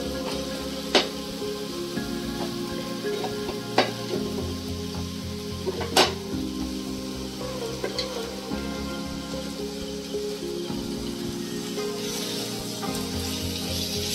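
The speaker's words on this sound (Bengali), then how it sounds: "এইভাবে আমি পটল এবং মশলার সমস্ত উপকরণগুলো আমি 5-7 মিনিট আবারও একবার ভালো করে কষে নিই" Sliced pointed gourd sautéing with spices in a pan, a steady close sizzle and crackle with a few sharp spoon clicks and taps scattered through, no voices.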